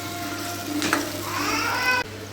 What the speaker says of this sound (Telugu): ఆయిల్ బాగా హీట్ అయిన తర్వాత పచ్చిమిరకాయలు వేసాను